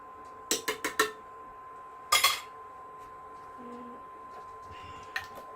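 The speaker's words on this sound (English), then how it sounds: "We're going to mix that in." A spoon clinks against a pot while better than bouillon paste is stirred into a vegan Tofurky sausage jambalaya with brown rice: a quick run of four light clinks, a brief scraping burst, then one faint tap in a quiet kitchen.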